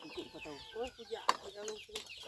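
Chickens, including a hen, cluck softly in the background while a person talks over them, with a sharp click partway through.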